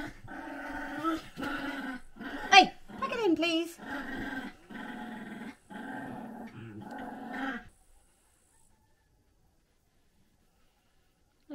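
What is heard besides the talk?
dogs playing and growling on a bed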